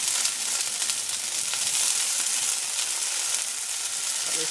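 Tofu sizzles in a pan over medium-high heat, a dense, steady hiss and crackle throughout, close and fairly loud, with no talking.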